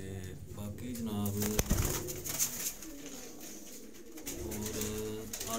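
Low, rolling coos from teddy pigeons sound throughout over steady background noise, and someone talks across them.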